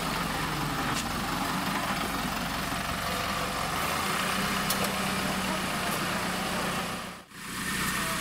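A rural shuttle bus, running as a replacement service for a discontinued Skyrail line, idles with a steady, continuous engine rumble throughout, close by and unbroken apart from a brief dip near the end.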